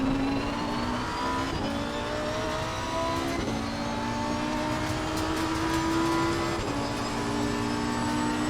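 A Lamborghini GT3 race car in Assetto Corsa Competizione, racing at Monza in the rain, holds a loud, steady engine howl that climbs in pitch and drops back at a gear change roughly every second and a half.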